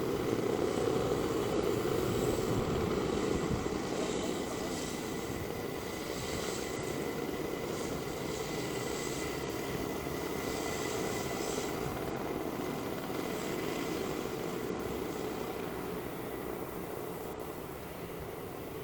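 Micromax race karts at Wackersdorf rev together at a race start, a dense continuous engine drone from a pack of small motors, steady and moderately distant, holding level without pause for the whole stretch.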